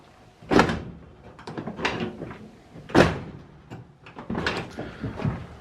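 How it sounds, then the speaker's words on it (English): Door on a Dodge D150 pickup cab swings shut with several solid thuds and clunks, close and fairly loud, spread over a few seconds with quieter rattles between. "Look at how good this door closes"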